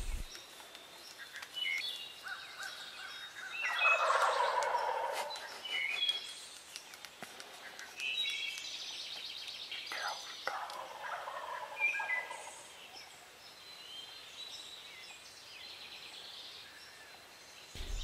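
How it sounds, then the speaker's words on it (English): Wild turkeys gobble from the roost at dawn during a 2012 spring turkey hunt. Several loud, rattling gobbles come in overlapping bursts, some close and others farther off, over quiet morning air. "hearing the turkeys on the roost gobbling their heads off"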